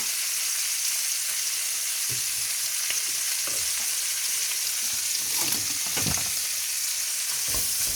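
Rabbit pieces browning in a pan with butter and oil, a steady close hiss of sizzling fat with occasional stirring scrapes and pops, no talking.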